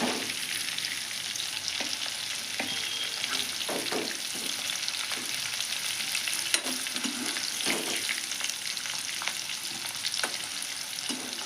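Eggs and cauliflower fry in hot oil with a loud, continuous crackling sizzle, broken by brief stirring scrapes throughout.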